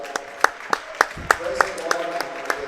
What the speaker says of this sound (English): You see the crowd showing their appreciation.